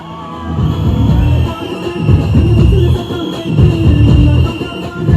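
A crowd at a TVK political meeting in RK Nagar cheers loudly, with swelling waves of shouts and whoops, close and continuous, rising and falling in bursts throughout.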